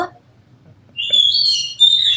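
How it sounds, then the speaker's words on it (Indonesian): Several birds chirp and whistle in a tropical setting in Central Kalimantan where chickens are also kept, bright calls starting partway through and overlapping, fairly loud and close after a quiet start with a brief voice at the beginning. "di sini bukan hanya ada ayam, tapi juga banyak burung"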